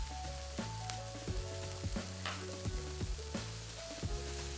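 A spice mixture added to a pan while making a cauliflower, chickpea and chard curry, giving a soft steady sizzle with a few light clinks and stirring sounds, with no talking over it.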